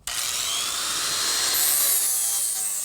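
A grinding wheel bites into cut sheet metal on a vehicle's rocker panel area, starting abruptly and holding a loud, high, shrieking whine with shifting pitch for a few seconds, no talk.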